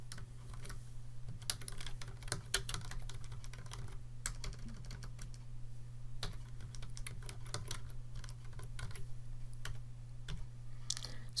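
Rapid, quiet clicking of a computer keyboard as a spreadsheet formula is typed, irregular bursts of keystrokes with short pauses over a low steady hum, no voices.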